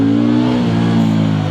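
A KOVE 625V Lancer motorcycle pulls away in first gear, its engine note climbing steadily with strong, even harmonics and a brief shift in pitch near the end, loud and close with no voices.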